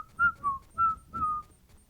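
A person whistles a short tune of four clear, close notes in a steady rhythm, with nothing else heard.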